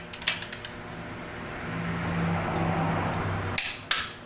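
A ratchet with a half-inch socket turns slowly on the intake bolts of a 5.0 HO engine. A quick run of sharp clicks comes first, then a low grinding creak, and two loud clicks near the end.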